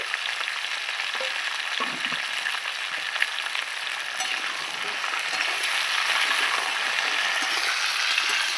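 Vegetables, including papaya, fry until lightly browned in a hot kadai, sizzling loudly with a dense crackling hiss throughout, with occasional stirring scrapes and clinks.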